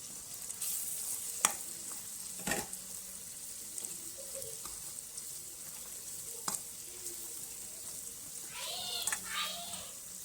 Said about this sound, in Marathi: हळद गरम मसाला मिरची पावडर आणि चवीपुरतं मीठ घेतलेलं आहे सर्व मिक्स करून घेते मसाले